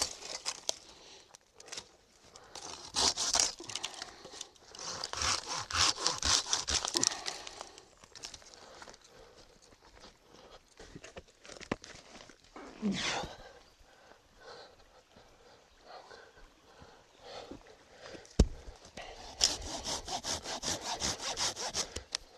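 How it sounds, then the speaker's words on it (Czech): A hand saw cuts firewood for a campfire in bursts of rhythmic rasping strokes, pausing between sessions, close and clear with no talking. "Beru si pilku a jdu na to."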